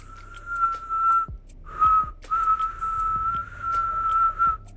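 A person whistles a sustained, steady tone in several long phrases separated by short breaths, close and clear, with no talking.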